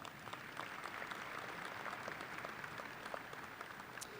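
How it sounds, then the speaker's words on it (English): An audience at a Murray State University December 2016 commencement applauds in a large hall; the clapping is soft and distant, an even wash of many hands sustained throughout. "Would you please give them a round of applause?"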